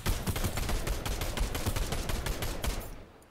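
Rapid, dense gunfire from a sniper rifle in a video game, with sustained overlapping shots at steady close loudness for about three seconds before cutting off.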